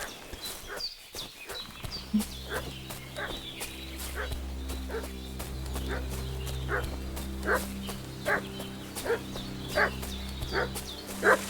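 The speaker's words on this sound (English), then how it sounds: "What's that dog making such a fuss about?" A dog barks repeatedly in Kingdom Come Deliverance 2, sharp evenly spaced woofs and yips over a steady low ambient hum, with no talk.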